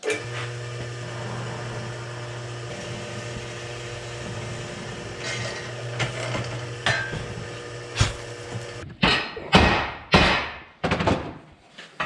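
A heated metal bracket is hammered flat in a workshop; after a long stretch of low humming background, a series of loud, sharp hammer blows ring out in an irregular rhythm near the end.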